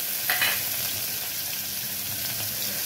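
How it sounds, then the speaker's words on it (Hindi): Ghee tadka sizzles in a pan for urad dal, a steady bright frying hiss throughout with a brief louder crackle near the start and no talking. "इधर झटपट झटपट तड़का लग रहा है"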